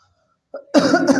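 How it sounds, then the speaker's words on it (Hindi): A teacher coughs once sharply during a mathematics lesson, after a brief quiet pause and a small throat sound, close and loud, followed by a rougher second burst. "मुझे खांसी हो गई"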